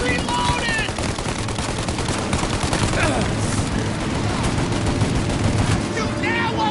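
Dense, continuous gunfire from a shootout in Mafia Definitive Edition, with rapid overlapping shots throughout and voices shouting beneath the fire.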